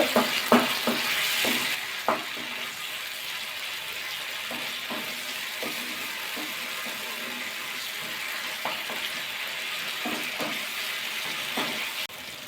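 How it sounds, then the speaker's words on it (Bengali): Garlic spice paste stirred and fried for a fish rezala, a steady broadband sizzle with intermittent soft scrapes of a spoon against the pot, no talk. "রসুন মশলাগুলি বেশা আরম্ভ করে দিয়েছে ভালো করে কষিয়ে দিতে হবে"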